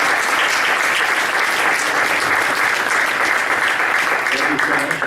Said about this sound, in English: can we give one big round of applause for them?